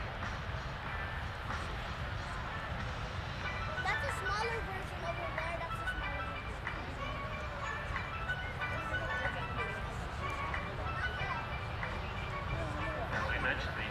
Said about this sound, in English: as we watch them reposition the aircraft out here off of Air Show left